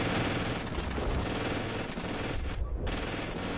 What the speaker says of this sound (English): I love how you see the hull-mounted machine gun firing this whole time